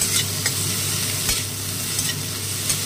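Leftover chicken stirred in a pan with a little oil, a steady close sizzle with a few soft scraping stirs of the utensil, no talking.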